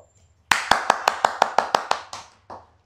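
A single person claps about ten times in a small room, each clap sharp, close and ringing, in a steady rhythm that slows before a final clap.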